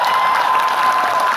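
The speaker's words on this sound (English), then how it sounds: "give her a round of applause" An audience claps steadily throughout a short burst of applause for a person at a testimony event, with no voices.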